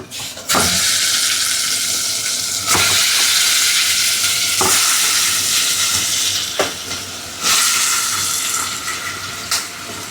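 Loud sizzling of mutton and onions frying in a pan, swelling in surges as it is stirred and scraped, with no talking.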